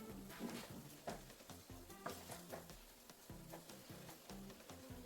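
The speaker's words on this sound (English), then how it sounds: "Give it a good stir." West African jollof rice sizzles in a pot while being stirred, giving a steady low frying hiss broken by repeated soft scraping strokes of the spoon, close and fairly quiet, with no voices.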